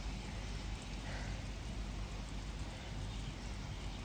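Heavy rain falls outside during a household puja day, a steady, even hiss of rain on surfaces, fairly faint and distant, with no talking.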